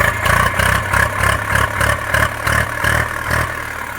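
An Eicher 368 tractor from 2014–15 with a healthy engine idling close by: a loud, steady diesel chug with a regular pulsing knock and mechanical clatter, alone without voices.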